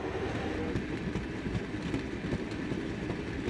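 Cartoon freight train running steadily on the rails, a continuous loud rumble with rhythmic clacking throughout and no voices.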